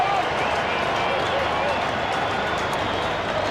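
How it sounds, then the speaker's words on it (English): The Carlton football crowd roars behind the goals as a goal goes through in a 1998 match against the Western Bulldogs, a steady, dense wall of cheering and clapping that holds level throughout. "the Carlton crowd are happy behind the goals as he puts it through"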